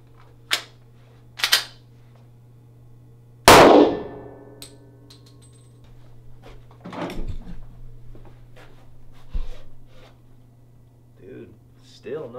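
Two 357 SIG full metal jacket rounds fired into Citizen Armor set on clay, then one louder, sharper gunshot that rings out, with someone talking between and after the shots.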